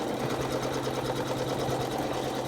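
An embroidery machine stitches out the underlying hat portion of a table mat design, a steady, close mechanical whir with a rapid regular needle rhythm and a low hum running throughout.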